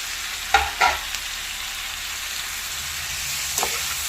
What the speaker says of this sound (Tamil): வெங்காயம் லேசாக வதங்கின வாட்டி பாவக்காயை சேர்த்துக்கலாம்.